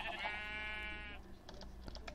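A red sheep in Minecraft survival mode gives a single bright, wavering bleat up close, followed by scattered soft clicks and faint game noise.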